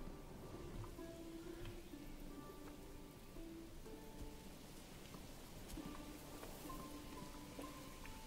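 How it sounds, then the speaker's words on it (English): Steady rain from a storm in the medieval city-building game Manor Lords, a dense even patter with faint rumbles beneath, played alone without speech. "Ooh, we got a storm."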